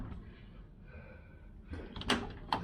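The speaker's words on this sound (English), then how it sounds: "I think the door's closing on this car at the moment." A car door on a Range Rover under rear axle repair thuds shut with a quick double knock after a quiet stretch of muffled workshop ambience.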